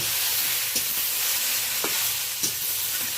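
Potato and ridge gourd sizzle in a hot pan while being stirred, a steady fry hiss broken by a few soft scrapes of the spoon, close and alone.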